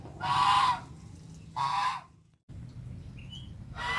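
Muscovy duck hens in a quarantine pen give loud, close, harsh honking calls in separate bursts, with quieter pauses between them over a low steady background.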